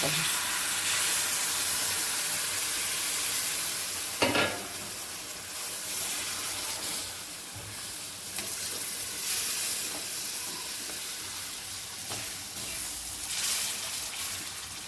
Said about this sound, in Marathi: आता हे मसाला मी तिथं फ्राय करायचे